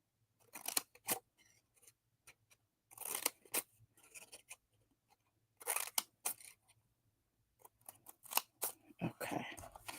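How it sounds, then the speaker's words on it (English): Scissors snip paper or craft material at a table, a series of short, crisp cuts in irregular bursts with quiet gaps between them, close and fairly faint. "I have never used these scissors."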